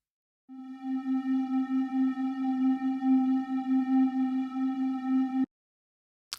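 Omnisphere synth pad from the built-in Love Triangles A sound source, dry with no effects: a single steady held tone with a faint grainy, slightly pulsing texture, lasting about five seconds before cutting off abruptly.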